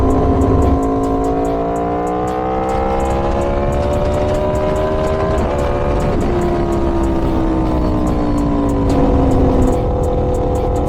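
Aprilia Tuono V4 motorcycle with an LV Corsa carbon exhaust, a loud sustained engine roar heard up close while riding, its pitch rising through gears with brief shift dips and wind noise.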